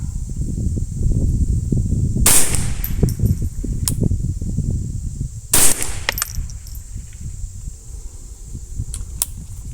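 Two shots from a Ruger 10/22 rifle firing Midas+ rimfire ammunition, sharp cracks a few seconds apart over steady outdoor wind rumble.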